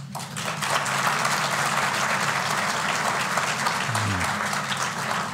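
Steady applause from a room full of people, continuous clapping throughout with no talk over it.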